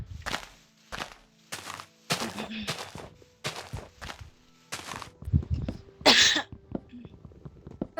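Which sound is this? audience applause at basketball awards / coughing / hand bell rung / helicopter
coughing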